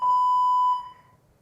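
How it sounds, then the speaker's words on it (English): A single steady electronic beep from a medical critical-level alarm, a pure sustained tone with harmonics, loud for most of a second and then fading away. "The electronic beep."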